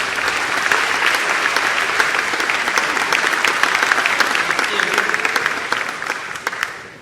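Loud, dense applause from an audience at a cultural evening honoring Arnaud, continuous and even for about seven seconds before it tapers off at the very end.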